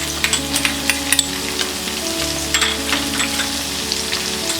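Chopped ginger and green chilies, with garlic, sizzle steadily in hot oil while being stirred for a spinach khichdi, with a few sharp crackles and clinks near the start and no talking.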